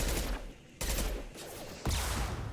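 Submachine gun fire from the video game Mass Effect 2, loud and dense, arriving in three heavy bursts with brief lulls between them.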